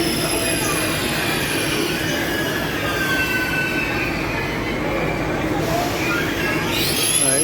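A train at Firenze Santa Maria Novella station in Italy: a steady, loud rumble of rolling stock with thin high wheel squeals running through it, continuous for the whole stretch.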